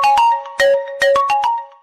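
A phone ringtone for an incoming call plays loud and close, a bright electronic melody of repeated short tonal bursts in a quick rhythm, with no talking.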